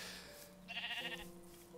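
A sheep bleats in the Jurassic World Craft video game, a single wavering, nasal baa over a quiet background of steady game tones.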